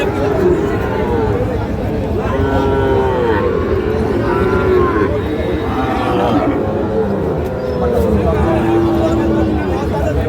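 Sahiwal bull calves moo repeatedly at the busy traditional Ambari village cattle market, several drawn-out calls rising over a loud crowd chatter and nearby talking.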